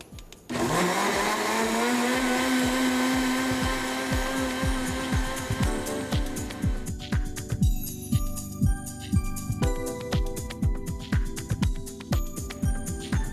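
A kitchen blender whirs up to a loud, steady motor roar as it blends a drink with ice, then settles into a rhythmic, pulsing churn of repeated thumps. No one speaks.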